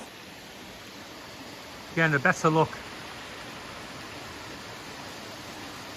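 A waterfall beside the mill near the Chamberlin covered bridge in Vermont gives a steady, close broadband rush throughout, and a voice speaks briefly over it partway through.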